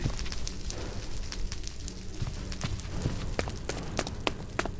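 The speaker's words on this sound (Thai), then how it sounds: "ทำไมอยู่ๆไฟไหม้อ่ะพี่" Crackling fire burning aboard an airplane in Minecraft, a steady dense hiss with scattered sharp pops and snaps throughout.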